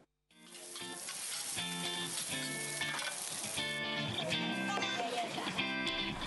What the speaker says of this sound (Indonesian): Proses penggorengan yang masih memakai kayu bakar menghasilkan cita rasa khas nasi goreng babat.